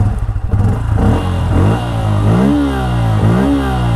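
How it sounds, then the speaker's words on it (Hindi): A Bajaj Pulsar N160 motorcycle engine cranks, catches, and settles into a loud idle with a couple of throttle blips, close by. "अब मैं आपके सामने बाइक स्टार्ट करता हूँ"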